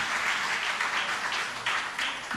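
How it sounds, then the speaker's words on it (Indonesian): Steady crowd applause, a dense wash of clapping from many hands that swells slightly in bursts and carries on throughout. "Boleh tepuk tangannya sekali lagi."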